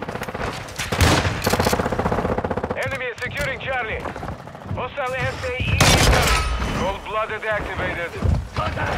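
Sustained automatic gunfire in Call of Duty: Modern Warfare II, loud rapid bursts of shots continuing throughout, with voices talking over the shooting.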